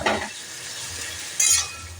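A spoon stirs a vegetable curry with drumstick pieces in a pan, with two short scraping bursts at the start and near the end over a quiet, low simmer.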